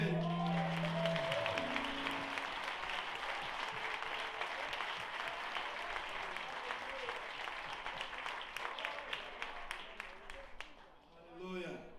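A church congregation at a celebration service applauds in a sustained, dense wave of clapping that fades out near the end, with some voices underneath.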